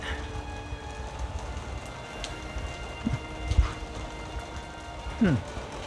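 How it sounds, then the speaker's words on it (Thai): Rain falls with gusty wind during a storm, a steady wash of drops hitting surfaces, with a few brief knocks and a voice briefly heard in the background. "ลมตึงตึงตึงมาฝนมาแล้ว"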